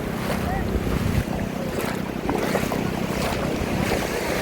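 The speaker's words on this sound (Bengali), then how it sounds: "সাগরের বড় বড় ঢেউ আমাদেরকে স্পর্শ করতেছে" Large sea waves breaking and washing up on the sand at Cox's Bazar beach, a steady loud roar of surf mixed with heavy wind buffeting the microphone throughout.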